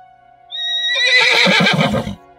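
A horse-faced tikbalang creature lets out a loud, close whinny, rising to a high squeal and then breaking into a rough, shaking neigh over about a second and a half, with nothing else around it.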